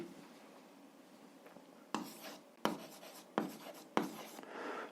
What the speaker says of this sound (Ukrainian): Записуємо отже.